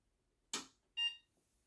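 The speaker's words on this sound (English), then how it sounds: "Okay, we got a beep." A short electronic beep sounds once after a brief click, close and clear in an otherwise quiet room, as a home-built Apple II Plus clone computer powers on.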